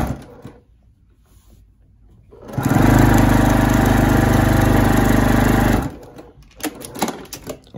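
A sewing machine runs steadily for about three seconds, stitching a quarter-inch seam on a boot quilt block, with quiet handling noise before and after the burst.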